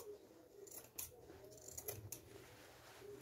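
Scissors are sharpened at home with an inexpensive sharpener in a quiet room, giving several faint, brief metallic scrapes and clicks at irregular intervals.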